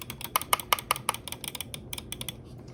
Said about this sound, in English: It's a pretty loud click, pretty usual like mouse click